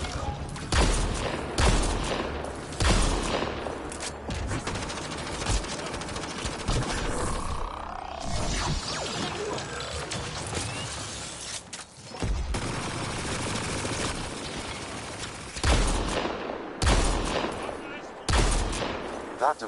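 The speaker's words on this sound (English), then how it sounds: "Shooting the device will destroy it." Rapid bursts of gunfire shoot at a tech device in the sci-fi video game Mass Effect Andromeda, loud repeated volleys with short pauses running through the whole stretch, mixed with game sound effects.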